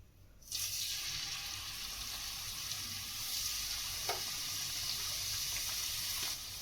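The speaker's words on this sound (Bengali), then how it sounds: "আমার রিফাইন তেলটা গরম হয়ে গেছে। এবার একে একে ছেড়ে দেবো।" Steady, loud sizzling and crackling of chicken samosas deep frying in hot refined oil, starting abruptly and continuing without pause, with no voices.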